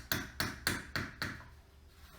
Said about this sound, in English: get one of the little tees and put it and just hammer it